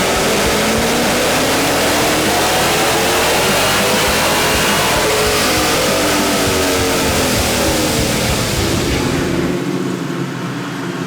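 A muscle car roars at full throttle on a dynamometer, its loud, close engine note climbing steadily through a long sustained pull before cutting off abruptly near the end, with no voices.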